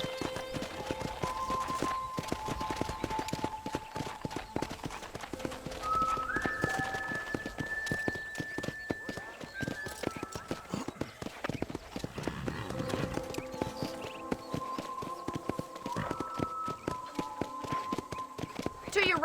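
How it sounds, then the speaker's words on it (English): Horse hooves clip-clop at a steady walking rhythm in the Western video game Red Dead Redemption, continuous and fairly faint under occasional tonal music and game sounds. "I picked out a fine horse for you."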